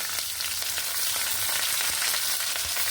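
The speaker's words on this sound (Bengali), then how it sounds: "তেলটা আমার গরম হয়ে গেছে এই পর্যায়ে আমি দিয়ে দিব কিছু কাঁচামরিচ" Green chilies hit hot oil after fish frying, giving a steady, loud, close sizzle with crackling bursts that fills the whole moment, no voices.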